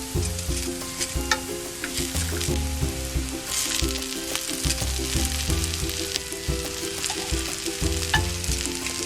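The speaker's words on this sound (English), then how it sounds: "Now let's add our fried fish that we set aside." Previously fried mackerel pieces go into a hot pan with onions, setting off a loud, continuous sizzle with stirring scrapes and clatter throughout and no voices.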